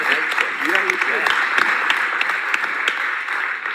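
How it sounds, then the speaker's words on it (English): An audience at the Design for Planet Festival 2024 applauds a panel with a full, continuous wash of clapping, loud and sustained, with voices mixed in. "Big round of applause for our panel"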